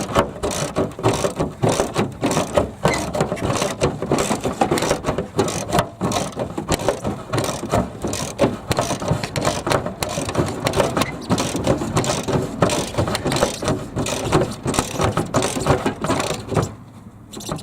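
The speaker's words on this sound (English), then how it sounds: "Tighten the bolt back in again." A socket ratchet tightening a bolt on a Chevy Blazer brush guard, loud close rapid clicking of the pawl in long continuous runs for many seconds, stopping briefly near the end, no talking.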